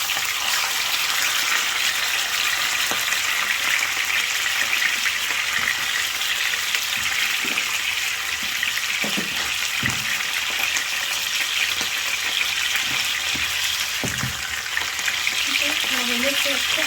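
Spinach frying in a pan with onions in a Congolese home kitchen, a steady close sizzle and crackle throughout, broken by occasional soft clinks and scrapes of stirring.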